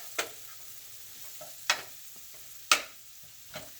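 Leek is stir-fried in hot ghee over medium to high heat: a faint, steady sizzle runs underneath, broken by four sharp scraping strokes of the spoon or spatula at irregular intervals.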